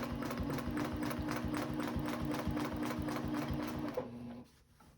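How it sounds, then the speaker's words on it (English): Sewing machine stitching a quilt seam in a rapid, even mechanical chatter of needle strokes, close and steady, stopping abruptly near the end into quiet. "And I'm going to stitch up."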